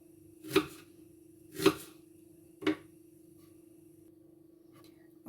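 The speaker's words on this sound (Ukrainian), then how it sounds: "я ріжу, я ріжу цибулю е, півкільцями" Three sharp knife strokes slice through an onion into half rings on a board, spaced about a second apart and fairly close, over a steady background hum, with no talk.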